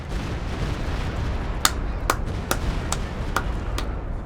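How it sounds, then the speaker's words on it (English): Stuka rocket fire in Company of Heroes 2 during a 3v3 match on Hill 400: six sharp, evenly spaced bangs about half a second apart, standing out over a steady low battlefield rumble. "Stuka's firing once again."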